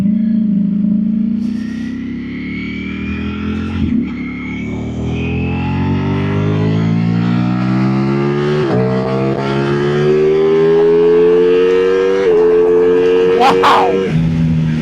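Ducati naked superbike engine pulls loudly while riding, pitch climbing steadily through several gears with quick shift breaks, close and continuous.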